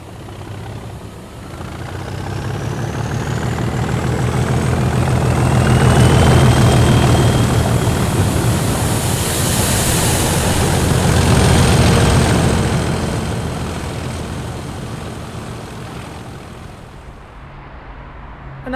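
Railhead treatment train 429 arrives off a single track line and rumbles past, its engine drone swelling loud and close in the middle, then fading as it moves away, with no voices.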